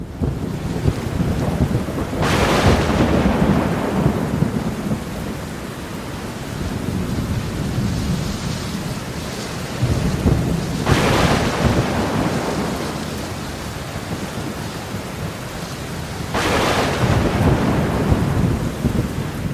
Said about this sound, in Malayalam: അന്ന് ഞങ്ങളുടെ നാട് മുഴുവൻ ഉറപ്പിക്കുന്നത് പോലുള്ള ഇടിമിന്നലായിരുന്നു. കാറ്റും മഴയും.